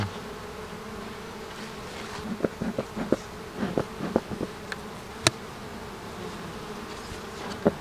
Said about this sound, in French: On va y aller avec la première colonie qui vient de la reine Kali